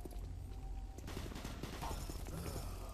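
Gunfire in the first-person shooter Doom 3 comes as a muffled volley of shots over a dense rumbling background. It is moderately loud and gets busier partway through.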